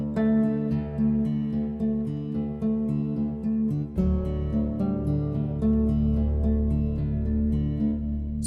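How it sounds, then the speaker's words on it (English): A sampled Spanish nylon-string guitar from a Native Instruments library plays plucked melodic notes that ring and overlap, with a fuller low chord entering midway. Close, clean and moderately loud, with no talking. "So what we got is the main Spanish guitar"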